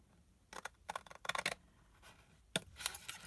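Scissors snip paper for a handmade masculine gift bag, a few short, crisp cuts in quick bursts, close and fairly quiet, with pauses between the snips.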